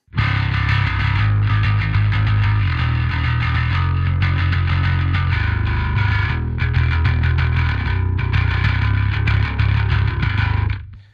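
Heavily distorted headless bass guitar through a Neural DSP Parallax X amp simulator plays continuously, thick and growling with a chorus-like shimmer, loud and steady throughout with no talking.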